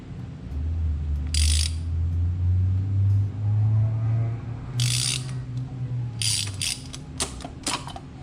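A ratchet wrench cranks loose a stuck oil filter on a 2020 Subaru WRX, giving loud rapid clicking bursts over a deep rumbling drone, several separate ratcheting runs close by, with no talk.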